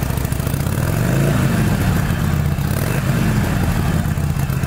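A 2022 Harley-Davidson Iron 883 with its Evolution V-twin idles loud and close, a lumpy uneven throb with a brief rev swelling and settling back, and no voices over it.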